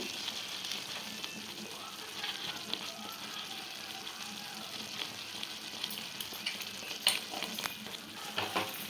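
Ivy gourd curry with chilli powder and salt cooks in a pan, giving a soft, continuous bubbling simmer close by, with a few light stirring scrapes and clicks and faint speech in the background.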